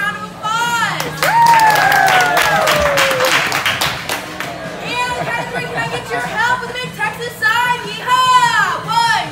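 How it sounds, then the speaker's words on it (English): A restaurant crowd claps and cheers for a 43rd birthday, a loud burst of applause mixed with whoops and chatter, with voices calling out over the clapping. "Can I please have a round of applause?"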